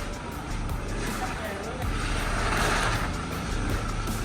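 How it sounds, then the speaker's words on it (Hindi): A Mahindra Thar, its tyres jammed after a wash, strains in reverse gear with stuck brakes: a steady engine drone with grinding texture, close by, while people talk over it. "रिवर्स गियर डाल रहा हूँ, मूव ही नहीं कर रही, जाम हो गई ब्रेक्स"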